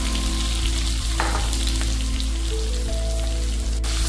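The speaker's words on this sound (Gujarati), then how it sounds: "હવે 1 ચમચી હિંગ એડ કરીને આપણે સબ્જી એડ કરી દઈશું." Okra dropped into hot oil with asafoetida for Kathiyawadi stuffed bhindi, a loud steady sizzle and crackle of frying filling the whole stretch, with a few brief clinks.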